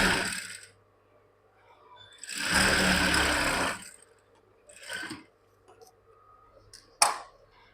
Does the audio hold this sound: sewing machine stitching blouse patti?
yes